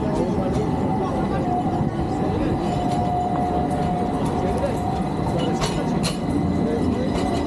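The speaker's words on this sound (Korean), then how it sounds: "저 기차 막 출발하려고 그래." At a station, a train about to depart gives off a steady mechanical hum and rumble with a faint tone, while people talk nearby.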